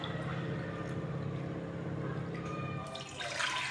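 Two glasses of water are poured into a pressure cooker on a lit gas stove for Sindhi-style tomato soup, giving a steady, close splashing gush that shifts and brightens near the end.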